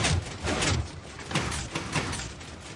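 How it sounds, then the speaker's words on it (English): Robot's blast doors closing at the flip of a switch, heard as a sliding mechanical rush with a few soft thuds, close and moderately loud, without speech. "we can flip the switch again to close the blast doors"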